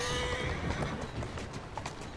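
In Assassin's Creed Syndicate, hooves clip-clop steadily with a horse's whinny in a dense, noisy mix as the horse pulls a carriage.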